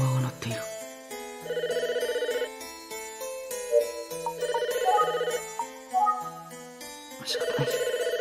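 A telephone in the Famicom Tantei Club detective video game rings in repeated electronic chiptune bursts: three clear rings spaced a couple of seconds apart over a busy background melody, with no talking.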